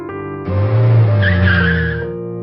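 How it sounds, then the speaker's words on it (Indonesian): A car brakes suddenly with a sharp, loud tire skid that swells and holds for about a second and a half before cutting off, a close, dramatic sound effect over a faint low drone. "Mobil berhenti dengan mendadak"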